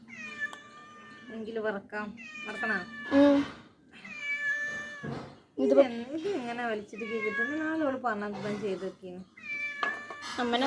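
A cat meows repeatedly in a home, several drawn-out, close meows in an irregular sequence, mixed with someone talking.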